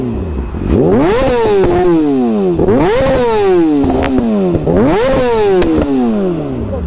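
A torquey motorcycle engine revving hard at a petrol station, with three rising and falling throttle blips that climb to a loud, close roar and drop back each time.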